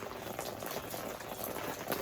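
Gravity-fed running water with low pressure flows from a tap or pipe, a faint, steady gurgling stream with no pauses.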